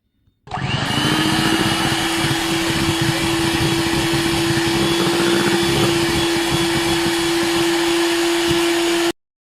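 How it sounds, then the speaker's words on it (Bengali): An electric beater whirs through sugar and eggs for cake pudding batter, starting abruptly and running at a loud, steady pitched motor drone for about nine seconds before cutting off, with no talk. "বিটার দিয়ে।"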